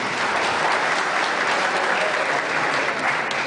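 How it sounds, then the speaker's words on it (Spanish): Steady, dense audience applause fills a hall at a provincial domino championship in Santo Domingo, loud and unbroken from start to finish with no speech over it. "¡Aplausos para él!"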